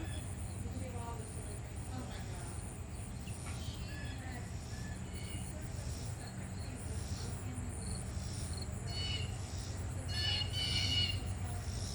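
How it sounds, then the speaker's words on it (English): Birds in a backyard with feeders, heard as scattered faint chirps and short calls throughout, over a constant low hum and an insect-like drone. "I just love the sound of the birds."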